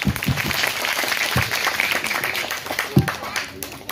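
An audience at a school's annual function and prize-giving in Nalbari claps hands in a steady wash of applause, with a voice speaking over it and a few louder nearby claps standing out.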